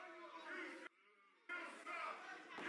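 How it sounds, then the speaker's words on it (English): A wrestling arena crowd jeering and shouting at a wrestler after a crash landing on an ankle, a dense roar of many voices that briefly drops out and then surges back. "As this crowd letting Channing know what they think of him"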